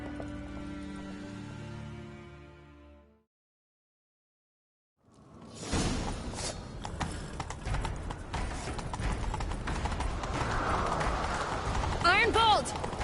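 Horses galloping in The Witcher 3 during a chase, a fast run of hoofbeats that sets in after a silent gap and keeps a steady drive beneath background game sound.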